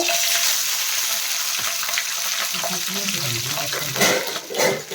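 Green chillies frying in a pan for a tender tamarind leaf chutney, giving a steady close sizzle throughout with a brief clatter of stirring near the end.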